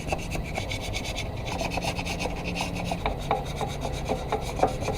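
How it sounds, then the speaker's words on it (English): Old head gasket material is scraped off a Volvo 740 cylinder head with quick, rhythmic rasping strokes, close and steady, with no talking. "you just kind of scrape off the old crap"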